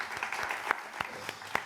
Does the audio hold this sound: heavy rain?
no